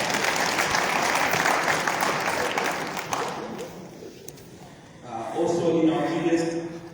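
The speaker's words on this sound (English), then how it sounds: "You can clap hands for that." Mourners at a memorial service clap their hands together in a hall, a broad burst of applause that fades gradually before a voice starts speaking over the quiet.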